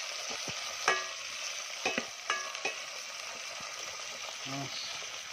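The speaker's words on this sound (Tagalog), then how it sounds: "Gisa natin yung bawang guys." Garlic sautéing in a pan, a low steady sizzle with a few metallic clinks and scrapes from a spatula, close by and fairly quiet.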